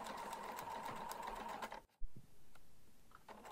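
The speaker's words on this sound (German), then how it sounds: "Bis zum Anfang der Naht weiternähen" Close, steady rattling hum of a sewing machine stitching a bag seam, running continuously, pausing briefly, then restarting with a slower, quieter run of stitches.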